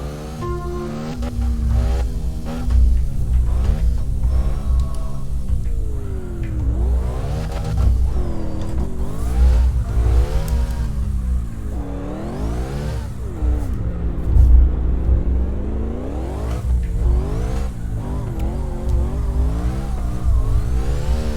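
Car engine in a racing video game revs and whines continuously while the car drifts, pitch sweeping up and down over a steady loud drone, with no talking.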